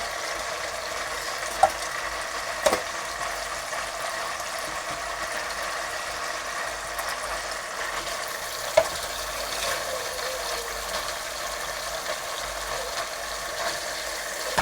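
Vegetables frying in a hot pan for veg noodles give a steady, moderate sizzle with a few sharp clinks from stirring, without any talking.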